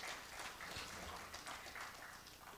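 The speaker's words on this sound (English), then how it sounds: "A round of applause for him, please." Audience applause at the opening ceremony of an engineering week event held by an engineering society's Abuja branch, a steady broadband wash of clapping that carries on without a break for the whole stretch.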